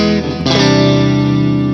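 Electric guitar played through a Vox AC30 amp plugin with a bright, chimey tone: a strummed chord rings out, then a second strum at about half a second sustains loud and shimmering with effects to the end.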